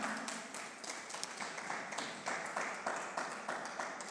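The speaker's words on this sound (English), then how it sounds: "Another round of applause, ladies and gentlemen." At a poetry, music and debate event, an audience claps after a performance: fairly quiet, sparse applause with distinct individual claps in a loose rhythm, as if from a smaller crowd.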